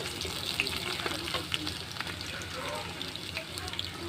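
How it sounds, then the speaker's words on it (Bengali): Nigella seeds sizzle in hot oil in a home kitchen, a soft, steady frying crackle with faint scattered pops, quiet and continuous throughout. "কালো জিরে দিয়ে দিলাম"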